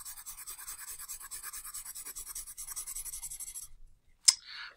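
Pencil sketching on paper: quick, rhythmic scratchy strokes run steadily up close, then stop, followed by a short silence and a single sharp tap.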